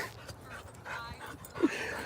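A dog at an outdoor dog park panting and whimpering softly, faint and close against quiet background noise, with brief snuffling sounds.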